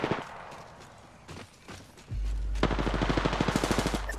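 Video game gunfire: after a few scattered shots, a rapid automatic burst rattles loud and close over a low rumble, with no talk.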